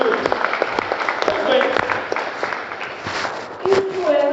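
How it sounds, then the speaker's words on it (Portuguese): A church congregation at a large cell-group gathering bursts into strong applause, dense clapping running steadily throughout with a few voices calling out over it. "Você pode dar mais um forte aplauso aqui no nome de Jesus?"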